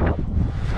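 Strong wind buffets the microphone while riding a Giant TCR Advanced Pro road bike in winter, a close, rough, continuous roar with no voices.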